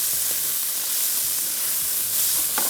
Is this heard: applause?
no